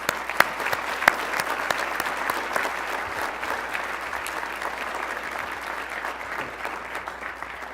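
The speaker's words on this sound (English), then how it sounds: "let's give him a round of applause." Steady, sustained applause from an audience at a 2014 MLK Diversity Awards ceremony, honoring an adult volunteer award recipient; dense clapping with a few sharper individual claps, continuous and fairly close throughout.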